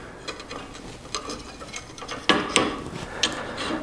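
A UV lamp fitting on a Viqua E4 ultraviolet water system is turned and tightened by hand, giving a run of quiet ratcheting clicks and plastic ticks, with several sharper clicks near the end.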